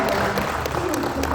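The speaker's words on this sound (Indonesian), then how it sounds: "kita berikan tepuk tangan untuk kedua" An audience at the Muslim Life Fair in Bandung, 2022, claps in a steady, dense patter of applause, with a voice speaking over the clapping.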